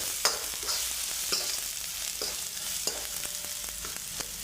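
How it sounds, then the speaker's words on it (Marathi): Coriander being stirred quickly into tempered rice in a pan; a soft continuous sizzle broken by repeated sharp scrapes and taps of a spoon against the pan, close and without speech. "आता थोडी घालतो कोथिंबीर आणि सगळं पटकन मिक्स करून घ्यायचं आहे"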